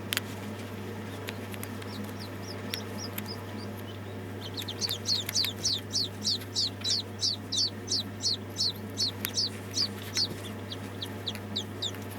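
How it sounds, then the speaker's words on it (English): Orphaned wild partridge chicks hatched in an incubator and reared by hand, giving a rapid, regular run of high peeping chirps that picks up partway through, close by over a constant low electrical hum. "The rearing of the wild partridge chicks is an emergency solution."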